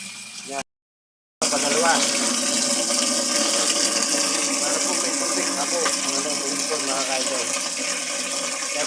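Water runs steadily from a tap into a bucket, a continuous broadband rush that fills nearly the whole clip after a brief gap of silence near the start, with faint talk and clatter underneath.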